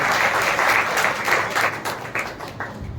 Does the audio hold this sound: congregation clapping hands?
yes